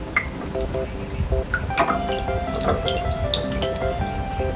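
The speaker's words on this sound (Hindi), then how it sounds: "अब ऑक्टोपस की मदद से पानी को थोड़ा हिला देते हैं।" Water stirred with a toy octopus in a small toy pool, close splashing and dripping with irregular sloshes and trickles running steadily, with a faint tonal toy-like background hum and no talking.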